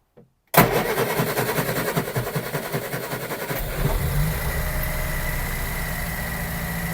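After a moment of silence, the small engine of a Regal with its choke out catches and starts loudly, chugging rhythmically for a few seconds before settling into a steady idle close by.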